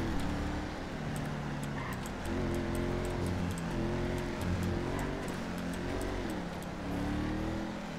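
A car drives in GTA 5 roleplay, its engine droning with shifting revs and gear changes, a steady loud hum carrying throughout with faint ticking sounds over the top.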